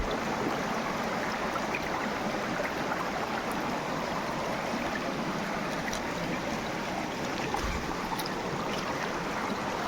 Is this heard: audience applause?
no